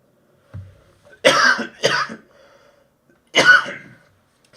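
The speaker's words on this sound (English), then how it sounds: "I have a bit of a cough." Three sharp coughs, two in quick succession and one after a pause, close and fairly loud, preceded by a faint low throat sound.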